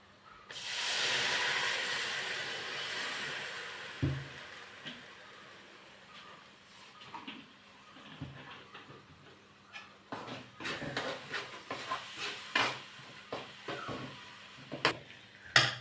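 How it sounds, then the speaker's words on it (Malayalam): Vinegar hits hot oil with curry leaves for a fish pickle, giving a brief loud hiss that fades into quieter crackles and scattered sharp pops, heard alone. "കരിവേപ്പില ഇട്ട് കഴിയുമ്പോൾ നമുക്ക് ആവശ്യമുള്ള വിനാഗിരി ഒഴിക്കാം."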